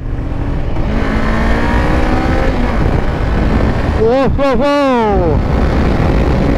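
Honda CBR 500 R motorcycle ridden briskly through short curves, a steady loud engine drone with the rider talking, then sharp revving rises and drops as it shifts and accelerates near the end.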